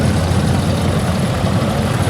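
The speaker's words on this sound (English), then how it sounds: "the tractor parade is still going" Antique tractors rolling past in a tractor parade at a Red Power Round Up show, a steady low engine drone with a continuous idling rumble throughout, close and fairly loud with no talk.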